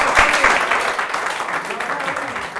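A studio audience claps for a man invited to come up and answer a question, a steady wash of applause sustained across the whole stretch with a little voice mixed in.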